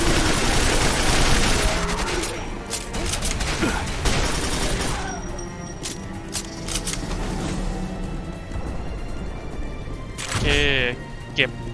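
Rapid gunfire in Quake 4 crackles in dense bursts over loud game action, with sharp transient hits throughout and a voice talking over it.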